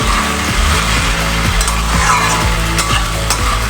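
Gathi kochu curry with raw turmeric is sautéed and stirred in a pan, loud close sizzling with repeated scraping strokes of a spoon against the pan, no talking.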